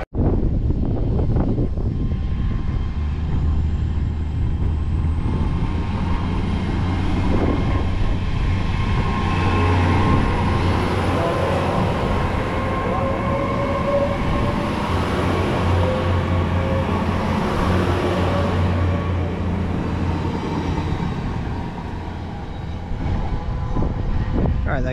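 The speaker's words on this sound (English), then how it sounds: "there goes 802213, the Pride unit that TPE have on their 802s, heading off on the 1718 service to Edinburgh from Berwick-upon-Tweed" A TransPennine Express Class 802 bi-mode unit running on diesel power pulls away from Berwick-upon-Tweed, its engine drone and rumbling wheels loud and close, then a long rising whine as it accelerates along the line.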